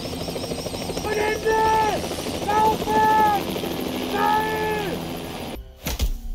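A helicopter in the video game Hitman, set in Paris, whirs loudly nearby with rising and falling whines, then cuts off abruptly near the end, followed by a couple of dull thumps.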